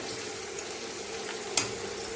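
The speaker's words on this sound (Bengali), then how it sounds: "আলুটা একটু ভালো করে ভেজে নেব, লাল লাল করে।" Potatoes fry in a pan over a tempering of cumin, bay leaf and dried red chilli, giving a faint, steady sizzle throughout with one brief click near the end.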